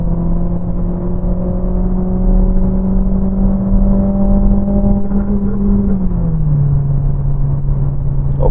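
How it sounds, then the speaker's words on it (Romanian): A Renault Talisman 1.6 TCe with an EDC7 automatic gearbox accelerates in third gear toward 100 km/h, its engine drone steady and close. The pitch rises slowly, then drops near the end as the gearbox shifts up. "Revin în treapta a treia, mergem către 100 de km pe oră."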